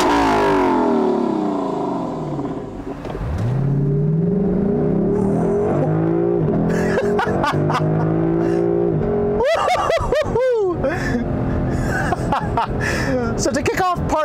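A 2021 Lexus LC500 Convertible's 5-liter V8 accelerates with a rising, climbing engine note that swells through the middle, then people talk and chuckle over the car sound.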